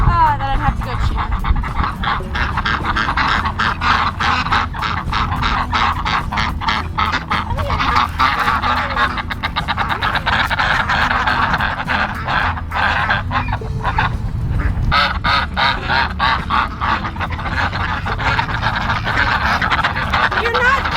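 An escaped farm duck quacks repeatedly in a busy, noisy outdoor setting, rapid honking calls running throughout, close and loud.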